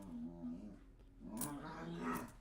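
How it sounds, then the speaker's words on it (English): Dogs growling low and steadily, with a whimpering edge rising in the second half, fairly close and continuous. "Ugh, my dogs."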